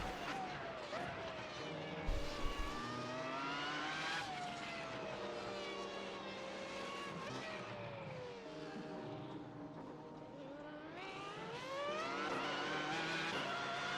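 A Dallara IR01 race car lapping the Long Beach street circuit in a racing video game, its engine screaming continuously as it revs up through the gears and drops on downshifts, with a brief tyre skid partway through.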